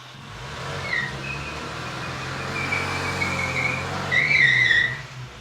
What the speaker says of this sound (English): It does burnouts.